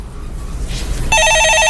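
A telephone bell starts ringing after a brief hiss of room noise, a loud, close electronic warble repeating in rapid pulses until the end, with no talk over it.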